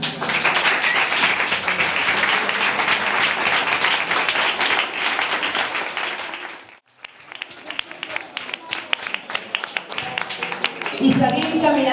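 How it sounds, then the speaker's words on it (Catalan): Loud, steady applause and clapping from a crowd at the Celrà Caminat 2016 walking event, continuous for about six seconds before breaking off, then scattered claps and voices follow. "Un fort aplaudiment per la seva creadora, la Irma Julià."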